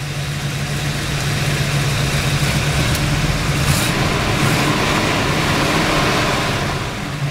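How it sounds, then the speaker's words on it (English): A stock 1970 Plymouth Cuda engine idles steadily with a mild, even rumble and a low droning exhaust note, close and continuous with no talking. "Engine's got a nice, just a mild rumble."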